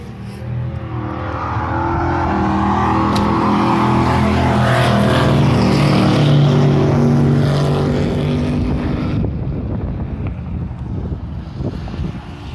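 A drag-racing S10 pickup or Monte Carlo with an LS-swapped 406 V8 and 4L80E transmission launches down the strip, a loud roaring engine that swells, holds a rising growl, then fades with the car's departure.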